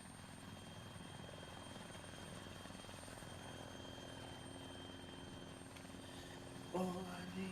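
A helicopter in a military video game during campaign training drones steadily throughout, its rotor and engine wash constant, with a brief louder swell near the end.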